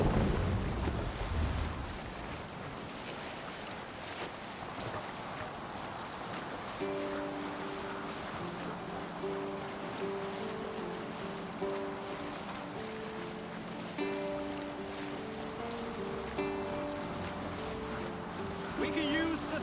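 Viking longship from Assassin's Creed Valhalla sailing over waves, with steady wind and water rush throughout, heavier at the start, and music and speaking voices over it.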